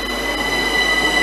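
Train running through Cholsey station on the Great Western Main Line, a steady close rumble with high wheel squeal and no speech.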